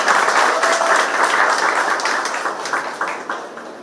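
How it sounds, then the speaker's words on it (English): A room full of people at an art critique workshop in Dimapur claps in a thick, sustained round that starts loud and slowly tapers off near the end. "A big round of applause for Mahotsav."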